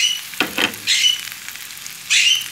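Chow mein with chopped egg and sausage being stirred in a pan, giving short scraping stir strokes over a steady close sizzle of frying that swells in bursts, with no talking.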